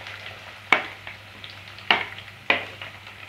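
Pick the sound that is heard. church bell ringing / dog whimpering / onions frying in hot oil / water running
onions frying in hot oil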